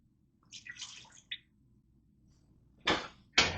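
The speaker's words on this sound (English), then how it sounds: "Here is the half cup of water." Half a cup of water poured into a Ninja Foodi pot, a short, quiet splash and trickle followed by a couple of louder clunks of the pot, with no talking.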